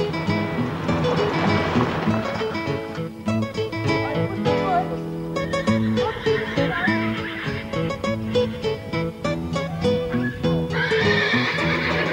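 Horses whinny and neigh repeatedly over a steady clatter of hooves, loud and close, with a busy crowd-like background throughout.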